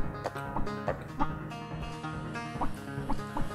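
In the video game Chicku, chickens cluck in short, irregular bursts over steady game music, fairly loud and close.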